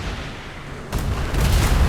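Cannon fire from a sailing warship in a naval roleplay video game, a sudden loud boom that swells into a sustained rumbling roar lasting to the end, with no talking.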